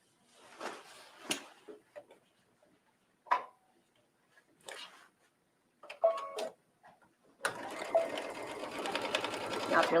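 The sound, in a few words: sewing machine sewing a skirt seam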